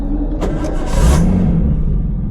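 A Nissan Skyline's engine cranks briefly and catches, settling into a steady low idle rumble close by.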